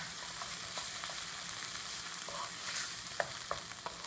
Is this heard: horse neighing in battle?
no